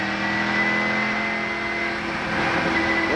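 A Mosler Raptor GT1 race car with a large-displacement pushrod V8 drones along steadily at Daytona during the 1998 Rolex 24, a continuous loud engine note caught from onboard with only slight pitch shifts and no speech.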